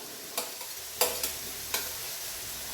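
Tomatoes tipped into a frying pan for beef roast with a few sharp scraping stir strokes over a faint steady sizzle, close and fairly quiet, no talking.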